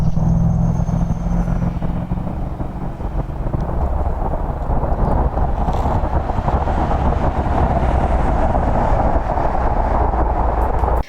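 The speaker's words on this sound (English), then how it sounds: "any time of day and throughout the evening, you do hear some of that highway traffic coming around" Highway traffic near a campground in Agawa Bay, Lake Superior Provincial Park, makes a constant low rumbling roar, a steady broadband wash of passing vehicles with a wind-like hiss and no voices.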